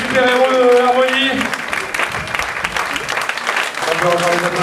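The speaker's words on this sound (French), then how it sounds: "Allez, on les applaudit encore" A concert audience applauds a wind band at an outdoor-town concert in Bollezeele, a dense, sustained clatter of clapping that swells after a few sustained tones and voices at the start and keeps going steadily to the end.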